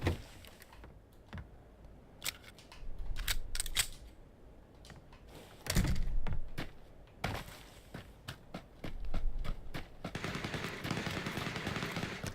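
Gunfire in PUBG, sharp cracks in irregular bursts and single shots, some close and loud, others fainter and distant, mixed with rapid clicking.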